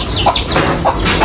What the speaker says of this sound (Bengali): এটাই হচ্ছে গিয়ে আরেকটা বাচ্চাওয়ালা মুরগি